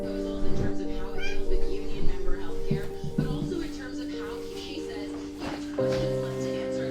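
A house cat meows several times close by indoors in the early morning, the calls mixed with a person talking and a steady tonal hum in the background.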